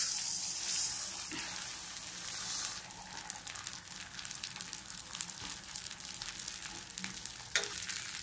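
Polao rice frying in a pan with cloves, a steady sizzle with scraping stir strokes and crinkly crackle throughout, close and fairly soft, with no talk.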